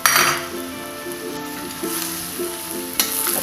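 Green chili, shrimp and tempeh fry and sizzle in a pan while a utensil stirs them, scraping and clinking against the metal in repeated strokes, close and fairly loud, with no talking.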